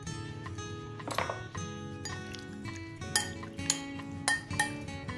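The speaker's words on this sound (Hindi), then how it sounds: "अभी इसे अच्छे से मिक्स करना है।" A spoon stirs a chicken marinade with ginger in a bowl, giving soft scraping and a series of sharp clinks against the dish over a low background hum.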